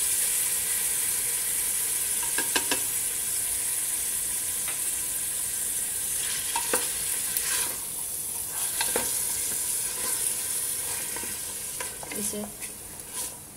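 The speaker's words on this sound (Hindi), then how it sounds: "1 से 2 मिनट ऐसे ही भूनना है जिंजर गार्लिक पेस्ट के साथ।" Ginger garlic paste and mutton sizzle steadily in a hot pan with occasional stirring scrapes, continuous and close, while a brief voice speaks.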